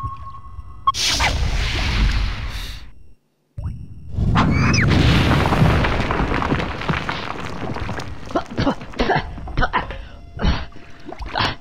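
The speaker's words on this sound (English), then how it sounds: "A Teddy Funken U-47 intercontinental ballistic missile. A missile? Yes, like that one." A Teddy Funken U-47 intercontinental ballistic missile blows up in Conker's Bad Fur Day, giving two loud, roaring blasts split by a brief silence, with a long rumbling tail, whooshes and scattered crackling debris.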